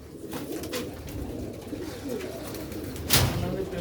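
Old Sialkoti breed pigeons coo in a loft, a low, steady burbling murmur that continues throughout, close by, with a brief sharper flutter or call near the end.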